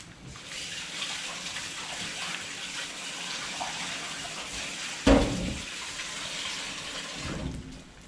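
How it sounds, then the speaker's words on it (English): Running tap water splashes steadily into a sink as a batter bowl is rinsed, with a brief clunk midway as the bowl is moved under the stream. "with your batter you really want to give this a good rinse in the sink"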